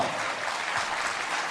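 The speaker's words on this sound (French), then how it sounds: "on applaudit bien fort" Audience applause at a regional charity association's 50th anniversary gathering, a steady dense burst of clapping from many hands lasting throughout, with no talk over it.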